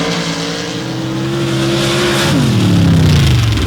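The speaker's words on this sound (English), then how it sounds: "91 Chevy S10 home-built chassis with the big, bad John Conkle race engine in the front" A 1991 Chevy S10 Super Stock drag racing car with a John Conkle race engine roars at high revs, then the pitch drops sharply as it shifts and keeps pulling, close and powerful.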